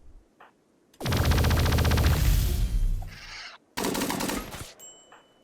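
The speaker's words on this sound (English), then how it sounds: "Also, these are miniguns." Miniguns firing in the video game Rimworld, two long loud bursts of rapid, dense mechanical gunfire, the first lasting about two and a half seconds and the second shorter, separated by a brief pause.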